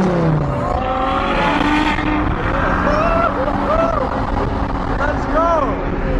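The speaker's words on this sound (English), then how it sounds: "The road is flooded with supercars." Supercars including a Bugatti drive past on a crowded road at a high-end car event, engines revving and rumbling steadily close by, mixed with crowd noise and voices talking.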